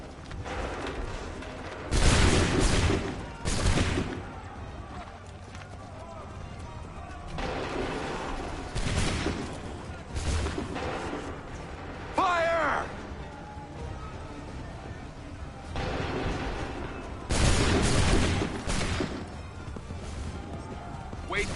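A musket volley in a battle scene from the video game Assassin's Creed 3: several heavy bursts of crashing gunfire come in clusters with rumbling gaps between them, mixed with shouted voices and battle noise.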